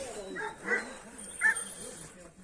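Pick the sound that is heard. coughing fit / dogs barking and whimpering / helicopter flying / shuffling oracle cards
dogs barking and whimpering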